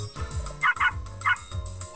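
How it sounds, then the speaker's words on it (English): A small puppy in the Shantae: Risky's Revenge video game gives a few quick, high chirpy barks, faint over background game music. "they even gave it a little barking noise"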